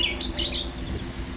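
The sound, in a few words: native birds singing at a golf course in New Zealand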